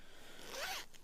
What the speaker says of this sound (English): zips